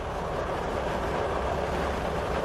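A constant, dense rumbling drone like the inside of a moving train, broad and unbroken for the whole stretch.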